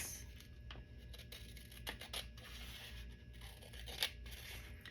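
Scissors cut rag paper for a collage board, with quiet snipping and crisp paper rustles at an uneven pace, faint and close, no talking.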